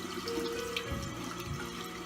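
Tap water, run cool to tepid, flows into a sink in a soft, steady stream, fairly quiet and close, with small splashing changes partway through and no talk.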